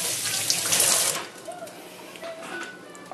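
Tap water runs into a sink in a loud splashing burst at the start, then tapers off to faint trickles and small clinks while a filleted horse mackerel is rinsed.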